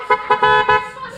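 A Honda Airblade 150 scooter's horn honks in four short, loud, nearby blasts, the last one held a little longer, with no talking over it.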